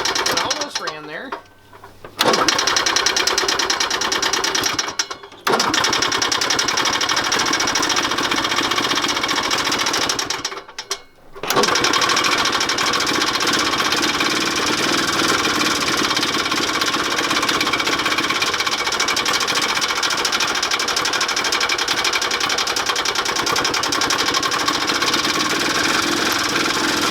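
Cheap old golf cart engine sputtering, briefly dying twice, then catching and running with a rapid, steady mechanical chatter, loud and close.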